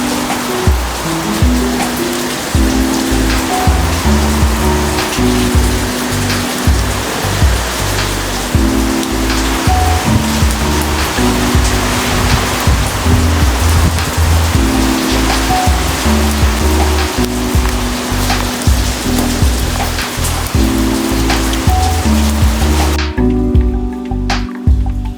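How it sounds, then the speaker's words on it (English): Heavy rain pours in a loud, continuous roar that drowns out a quiet voice and background music, then cuts off abruptly near the end. "I don't know if you can hear me with all the heavy rain"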